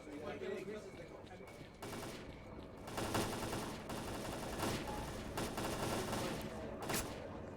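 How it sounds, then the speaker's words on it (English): Enemy gunfire in the video game S.T.A.L.K.E.R.: Clear Sky, dense rattling bursts of automatic fire and shots running almost continuously and loudly throughout, with a voice talking over parts of it. "the enemy gunfire at this position is not of a concern to us"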